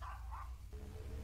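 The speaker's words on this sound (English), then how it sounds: "Jake, why are you barking?" A dog barking in the indie horror game We Are Not Alone, a couple of muffled barks over a constant low droning background, fairly faint.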